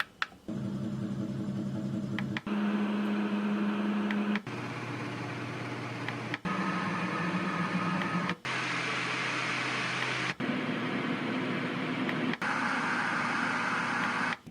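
An electric fan sound setting on a sound machine cycles through seven steady whirring fan noises, each lasting about two seconds. Each noise has its own hum and is separated by small clicks, with no talking.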